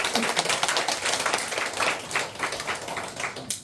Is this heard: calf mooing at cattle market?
no